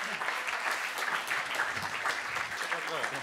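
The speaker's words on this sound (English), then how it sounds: "make a round of applause for Joerg Platzer" Audience applause welcoming a speaker at a Bitcoin talk, a full steady wash of many hands clapping throughout, close and even, with faint voices mixed in.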